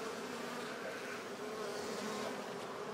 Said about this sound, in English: Oh, they're still digging in.